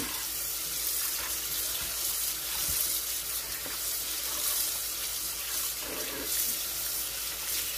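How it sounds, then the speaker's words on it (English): Tap water runs steadily into a kitchen sink while beef is rinsed for tamales, a continuous close splashing hiss with small shifts as the meat is handled. "Then we're going to rinse it out one more time"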